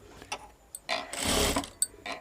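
A sewing machine stitches a blouse in short, uneven bursts of rapid mechanical whirring, one longer run in the middle and a few quick ticks between, close and clear with no talking.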